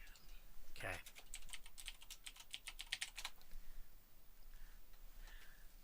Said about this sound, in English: I have to keep typing in that game colon paper